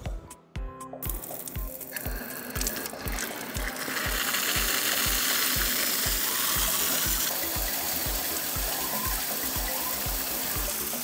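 Warm water runs steadily from the tap of a Parkside 35-litre solar shower, beginning with rapid mechanical clicking and settling into a loud, continuous rushing stream.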